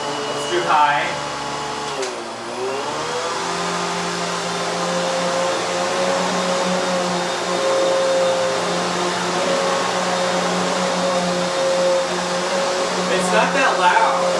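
A Hoover HushTone 15-inch commercial vacuum cleaner switches up to high, its motor pitch dipping then rising into a steady close whine, with brief talking at the start and end.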